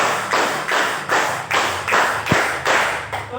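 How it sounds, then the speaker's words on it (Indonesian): A class clapping hands in unison, a run of even, loud group claps at a steady rhythm with one sharp thump among them, no talking. "tepuk tangan 4 kali"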